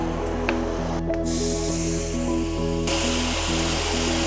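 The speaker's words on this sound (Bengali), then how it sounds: "ওই তেলেই আমি ফোড়ন দেবো" Whole spices, dried chilli, cumin, coriander and bay leaf, hit hot oil in a fish curry pan, raising a loud, continuous hissing spatter that swells brighter partway through, with no voices.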